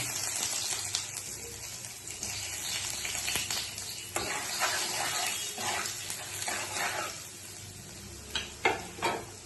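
Ginger frying in hot oil in a pan, a steady close sizzle with bursts of sharper crackling and stirring scrapes, louder spits toward the end.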